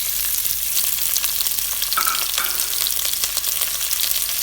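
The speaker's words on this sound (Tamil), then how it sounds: "இப்போ நம்ம கட் பண்ணி வச்சிருக்கக்கூடிய வெங்காயத்தை இதில் சேர்த்துடலாம்." Chopped onions fry with a tempering of spices for ghee rice, giving a loud, continuous crackling sizzle close by with steady stirring throughout.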